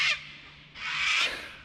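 Crow-like birds caw near a backwater: one harsh call, then a longer drawn-out raspy caw, moderately close and heard alone with no talk.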